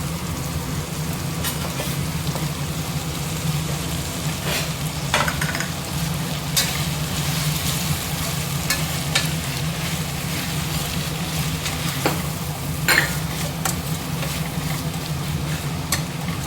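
Carrots, beans and potatoes being stirred and fried in a pan for a vegetable kurma, giving a steady, continuous sizzle with scattered scraping clicks of the spoon, close and moderately loud, with no voices.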